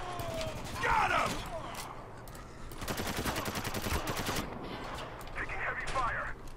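Heavy gunfire from the Spec Ops: The Line shooter, with rapid automatic bursts and fusillades crackling in clusters, loudest in a sustained rattling stretch midway, with voices talking over parts of the action.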